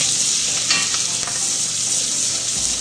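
Onions sautéing in butter over low heat in a pan, a loud continuous close-up sizzle with a brief stir partway through and no talk.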